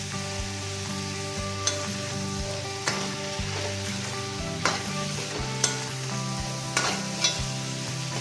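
Marinated chicken pieces frying in a pan on lowered heat, a soft steady sizzle with repeated spoon scrapes and clacks as the meat is stirred, close and unaccompanied by talk.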